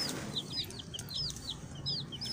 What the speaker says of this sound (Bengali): তো দেখুন আমাদের মুরগি এরকম।